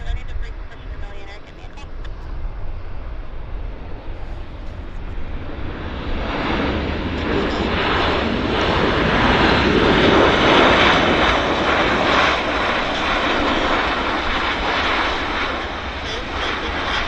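American Airlines 1719 from Los Angeles, a fixed-wing airliner, landing at Vancouver Airport, its engine roar building from a distant rumble into a loud, sustained broadband rush that holds steady, with a voice talking over it.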